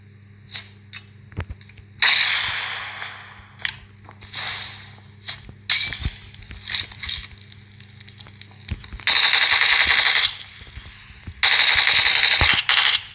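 Gunfire in PUBG Mobile starts as scattered single shots and short bursts, then builds into two long, loud sustained automatic volleys, with quiet gaps between the earlier shots.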